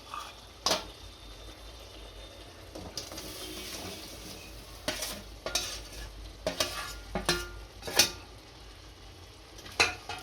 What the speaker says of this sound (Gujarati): આને મિક્સ કરી દઈશું।